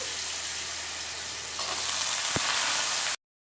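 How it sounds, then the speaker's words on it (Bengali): Diced potatoes fry in oil with a close, even sizzle and hiss that swells slightly and includes one sharp scrape, then cuts off abruptly into silence. "দিয়ে একটু আলুটাকে ভেজে নিচ্ছি সামান্য করে"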